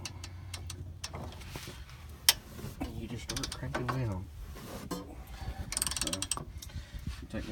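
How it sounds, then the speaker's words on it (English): A large ratcheting wrench cranks down during a rear wheel bearing replacement on a 1991 BMW 735i, giving close, repeated mechanical ratchet clicks and creaks with occasional louder knocks over a steady background. "I got one of these big ratcheting wrenches. On there like that. And you just start cranking down."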